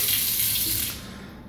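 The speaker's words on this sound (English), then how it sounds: "Turn on the water, comes out from up above." Water runs from an overhead faucet into a stainless steel bowl sink, a steady bright hiss that eases slightly toward the end, alone with no voices.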